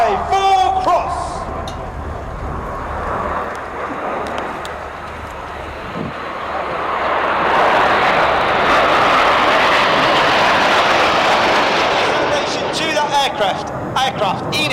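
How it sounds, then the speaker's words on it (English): RAF Red Arrows jets crossing from opposite sides in a 5-4 cross manoeuvre at an air show, a loud broad jet roar swelling and sustained overhead, with a voice talking at the start and end. "Enid from the right, Hannah from the left, for the 5-4 cross."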